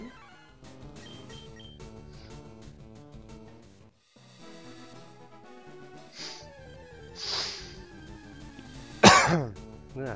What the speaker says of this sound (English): Still coughing, but still getting less sick.